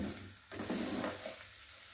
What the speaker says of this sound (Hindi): चावल डालने के बाद बहुत अच्छे से मिक्स करें